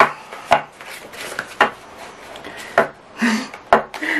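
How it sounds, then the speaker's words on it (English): A craft knife slicing through the pages of a cardboard food box gives short scraping cuts, about six separate strokes, close and fairly quiet, with soft rubbing between them. "So I reverted back to cutting with the craft knife."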